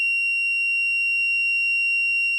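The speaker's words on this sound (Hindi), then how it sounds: "लाइट भी जल गई और अलार्म बजने लगा।" An Arduino-built fire alarm buzzer sounds a steady, piercing continuous tone, loud and unbroken throughout, with no voices.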